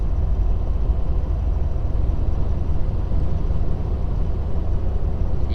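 Inside the cab of a tuned Ford 6.7 Powerstroke diesel truck towing uphill in sixth gear, a steady low engine drone and road rumble carry on evenly without a break.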